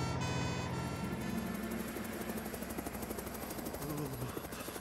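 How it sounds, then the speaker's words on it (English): A cartoon helicopter drones steadily with a rapid rotor chop, moderately faint and continuous, heard alone without talk. "that sounds like Tom's helicopter"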